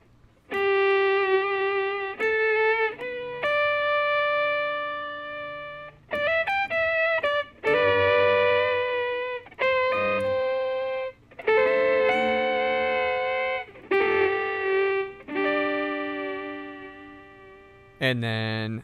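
An electric guitar runs through a Gen Loss effects pedal, producing sustained, slightly warbly tape-like chords and notes. The phrases are separated by short pauses, with a brief swell at the end.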